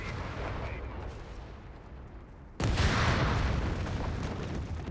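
Grenade explosions and gunfire in the video game Company of Heroes 3, with a low rumbling battle bed and then a sudden loud blast about halfway through that stays heavy and noisy to the end.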